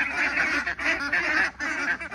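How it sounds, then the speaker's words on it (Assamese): Farmed ducks kept in large numbers, around two hundred birds, honk and quack continuously in a dense, loud chorus close by, with brief dips between bursts. "এই ডাঙৰ হাঁহখিনিক এইফালে চাওক"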